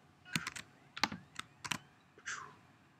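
A few computer keyboard keystrokes land in short clusters close by, followed by a brief swishing sound, in a quiet room.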